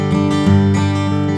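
Bluegrass rhythm guitar strummed straight with steady, even strokes, a brief close and loud burst of full acoustic chords with no voice.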